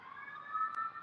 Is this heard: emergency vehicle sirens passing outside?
yes